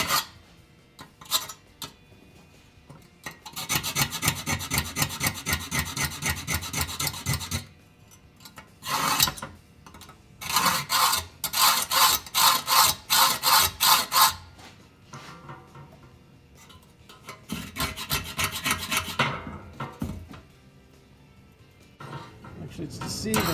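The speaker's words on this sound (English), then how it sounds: "I'm going to scribe a line on this" A scribe scrapes across a sheet metal blank for a 1950 Chevy 3100 roof header, making repeated raspy strokes in bursts, some long and steady, others short and choppy, at close range with pauses between.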